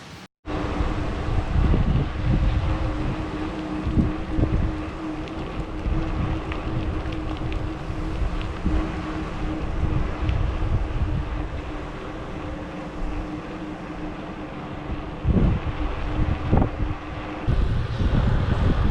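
Steady wind rumbles against the microphone throughout on a foggy, overcast day at Cedar Key, Florida, a continuous low roar with occasional gusts, with a faint constant hum underneath.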